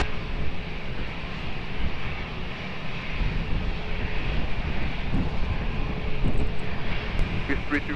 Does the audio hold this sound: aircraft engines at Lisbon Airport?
yes